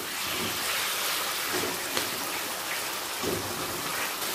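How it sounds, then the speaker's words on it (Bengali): Taro leaves (kochu shak) sizzle in a pan over a medium-high gas flame as salt and turmeric are stirred in, giving a steady, hissing crackle with faint scraping close by. "লবণ আর হলুদটা ভালো করে মিশিয়ে নেব।"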